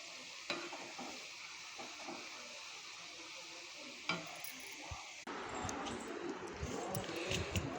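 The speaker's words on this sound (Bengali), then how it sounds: "ঝুড়ি করে কেটেছি, এখন ভাজা করছি।" Julienned potatoes fry in hot oil in a pan, giving a soft, steady sizzle with occasional spatula scrapes and clinks, then growing louder and busier as the frying intensifies.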